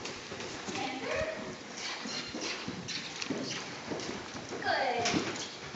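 Rhythmic hoofbeats of a horse cantering under saddle in an arena, fairly close, with a rider's voice talking over the steady three-beat footfalls.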